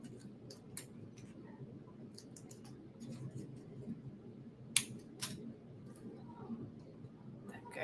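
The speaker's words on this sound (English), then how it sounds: "Let's cut this one out." Scissors snip out a layering paper stencil for apple shapes in a series of short, sharp, close cuts with pauses between them, over a low background hum.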